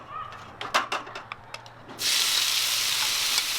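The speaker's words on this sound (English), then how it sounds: "These shrimp are gonna sizzle." Shrimp with lime juice and seasoning hit a hot pan outdoors at an RV campsite, a loud steady sizzle bursting in after a run of light clicks and knocks and then holding continuously to the end.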